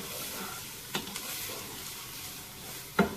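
Vegetables for restaurant-style fried rice stirred in a pan over a very low flame: a soft, steady sizzle with quiet scraping and two brief utensil clinks, fairly close and with no talking.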